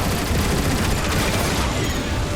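Autobot gun turrets fire at Decepticon Seekers in the Transformers: War for Cybertron video game, a dense, unbroken barrage of loud blasts and crackling shots with no voices.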